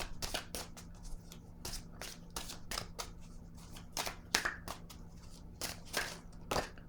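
A deck of oracle cards shuffled by hand, close and fairly soft, with repeated quick riffling bursts and flicks separated by short pauses, no voices.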